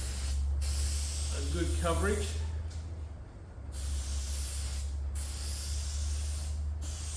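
A steady, loud hiss of an aerosol adhesive spraying continuously, with brief pauses between bursts and someone speaking briefly over it.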